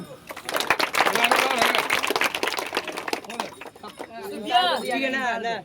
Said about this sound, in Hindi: एगो कमेंटेटर के लिए ताली मारो।